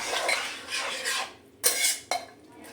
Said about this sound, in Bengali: জল দেওয়ার পর আরও একবার খুব ভালো করে আমি নেড়ে দেব।